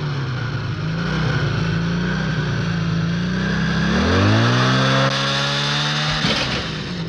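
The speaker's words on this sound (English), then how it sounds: "He busts out of the ground on a motorcycle." A loud motorcycle engine revs and rises in pitch, its drone sweeping upward over a few seconds before easing off, close and continuous with no talk.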